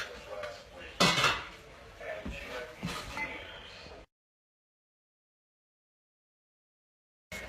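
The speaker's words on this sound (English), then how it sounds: "We're going to stir that around. And cover that up" Onions are stirred in a pot with a few scraping, clattering knocks of utensil on metal, then a lid is set on; the clip drops to silence for several seconds before a brief return of sound.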